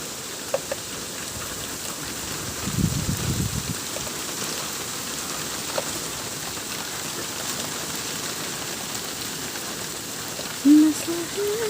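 Heavy rain pours down outdoors in a steady, even hiss that holds for the whole stretch, with a few scattered drips and faint background sounds.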